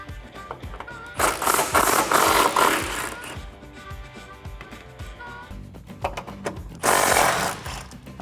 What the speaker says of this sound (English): grab your impact gun and your socket and get those 3 off